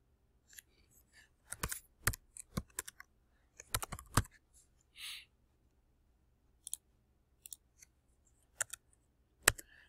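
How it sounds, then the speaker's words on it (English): Keys on a computer keyboard are tapped in short irregular bursts as a name is entered, crisp close clicks separated by pauses, with a slightly louder keystroke near the end and no talking. "Just click anywhere in here and type your name."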